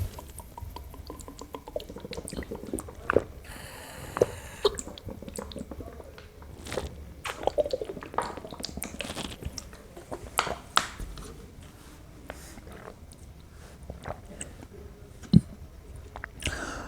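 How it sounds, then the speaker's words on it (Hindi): A man takes a drink of water during a live quiz session, quiet intermittent sips, gulps and swallowing clicks scattered over several seconds, close to the microphone, with small liquid sounds between them. "मैं थोड़ा पानी पी लेता हूँ"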